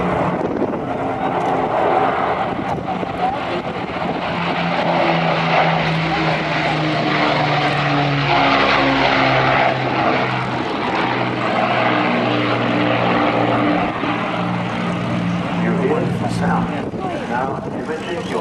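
Four-engine Merlin-powered aircraft, a warbird at a flying display air show, drones steadily with a loud, sustained engine roar and droning propeller harmonics throughout, shifting slightly in pitch as it passes, with faint voices in the crowd mixed in.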